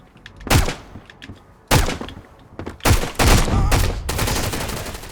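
Enemy gunfire in the shooter game Road to Vostok: sharp, loud gunshots in separate single cracks and short bursts, ending in a fast sustained volley of rapid shots.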